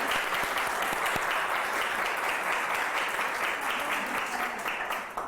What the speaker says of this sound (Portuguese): Eu acho que valeria até uma salva de palmas para vocês